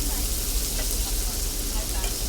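Butter sizzling steadily as it melts in a hot cast iron pan, a continuous loud crackling hiss, with a voice talking over it.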